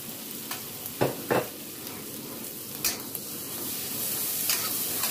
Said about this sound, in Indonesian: Jadi saya akan goreng dulu sebentar teri medannya